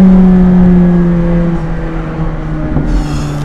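A McLaren 570S sports car accelerates hard, its engine a loud, sustained roar heard from up close, with the pitch climbing and then shifting as it pulls on without pause.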